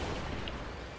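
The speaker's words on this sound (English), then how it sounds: "I'm gonna shoot these fuel tanks" Sustained roar of gunfire and explosions as fuel tanks are shot in the aerial combat game Strike Vector EX, dense and loud throughout the short burst with no pauses.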